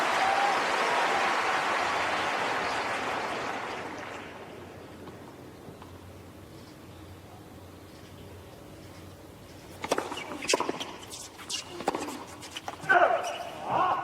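A tennis crowd applauds at the Australian Open, a loud burst of clapping that fades over several seconds. Scattered ball bounces and light court sounds follow after a quiet stretch.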